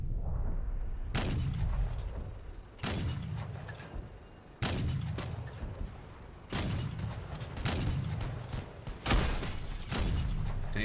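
Four 100mm cannons on a land battleship vehicle in the video game Crossout fire heavy booming shots, six or so loud blasts spaced a second or two apart, each with a rumbling tail.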